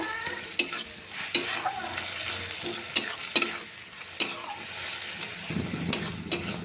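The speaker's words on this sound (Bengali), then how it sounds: "আদা রসুন আর কাঁচা লঙ্কার পেস্ট। সব কিছুকে আরও কিছুক্ষণ আমি ভেজে নেব।" Ginger, garlic and green chilli paste fries in a pan with onions for mushroom curry, a steady close sizzle punctuated by repeated sharp scrapes and knocks of a stirring spoon, with no voices.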